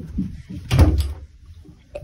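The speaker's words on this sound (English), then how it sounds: "Lock the door." A door swung shut with a single solid thud, then a small click of the lock, indoors in a house during a game of hide and seek.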